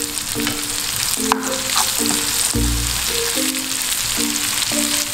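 Garlic and chives sizzle steadily in hot oil in a pan for pasta with shrimp, a loud, continuous close frying hiss with occasional stirring scrapes and no talking.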